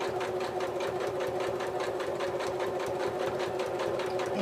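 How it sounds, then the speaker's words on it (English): A sewing machine runs steadily, stitching backward in reverse to lock the seam on a small fabric wallet, its close, even mechanical whir holding without pause throughout. "You're going to want to secure your stitch at the beginning and the end with a reverse stitch."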